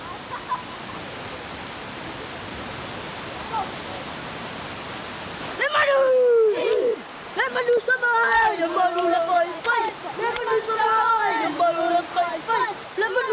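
A waterfall in Samoa gives a steady, even rushing roar for several seconds before voices start talking and take over.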